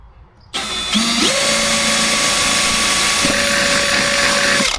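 A power drill boring out plastic for a push pin on the wiper cowl of a 2015–2020 Ford F-150, whirring loud and close after a sudden start, with its pitch shifting as it bites.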